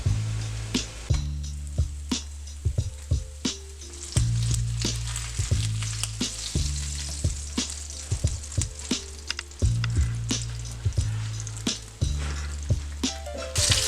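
A block of sausage browns in a hot pan, sizzling steadily and loudly throughout, with repeated scraping taps and clacks of a utensil turning and flipping it.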